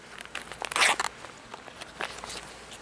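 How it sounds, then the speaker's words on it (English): A tested Level IIIA+ ballistic body armor panel is cut open in a lab: a run of rough tearing and ripping bursts, the loudest about a second in, followed by smaller scattered rips, close and alone. "we're gonna cut this armor panel open and see what happened here"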